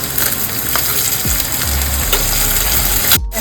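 Onion paste sizzles loudly in hot oil over onions already fried reddish, a steady close crackle of frying with brief stirring scrapes and no talk.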